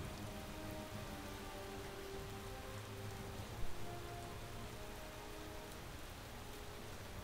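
Steady rainfall in the video game Space Engineers, a dense even hiss of drops on surfaces with faint low hum underneath, continuous and moderately quiet.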